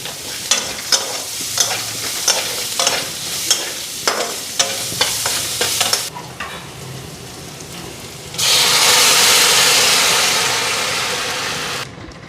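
Rice fried with egg in a pan, stirred with a utensil: repeated scraping strokes over a steady sizzle, then a louder burst of frying hiss that fades before a sudden stop.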